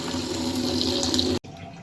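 Cut eggplant pieces rinsed under a running tap in a kitchen sink, a steady close splashing rush that stops abruptly near the end, leaving quieter room tone.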